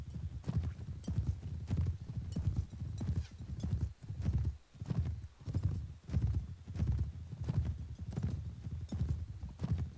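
Rhythmic hoofbeats of a galloping horse in the video game Mount & Blade: Warband pound steadily throughout, with a horse's whinny mixed in; close and fairly loud, no voices.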